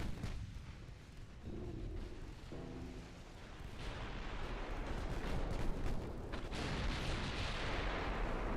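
A torpedo detonates in the naval warship game Ultimate Admiral Dreadnoughts, swelling into a deep, broad explosive rumble that rolls on loudly for several seconds over steady battle noise, with no voices.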